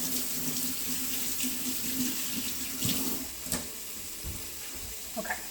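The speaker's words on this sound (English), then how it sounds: "I had to wash my hand again" Kitchen tap running as hands are washed, a steady close hiss of water with faint splashes and small clinks near the end.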